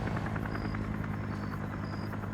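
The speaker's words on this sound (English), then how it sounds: "Alright, helicopters are in play." A helicopter in a Vietnam War video game match drones steadily with a low rotor thump and buzzing whine, continuous and fairly loud throughout, with no talk.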